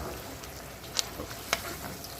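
Red curry paste being stirred in a hot pan for chicken curry, a soft continuous sizzle with two brief sharp scrapes or taps of the utensil.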